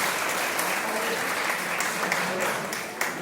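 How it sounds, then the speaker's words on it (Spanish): A conference audience claps steadily through the whole stretch, a dense and fairly loud wash of applause, with a faint murmur of voices underneath. "Aplauso."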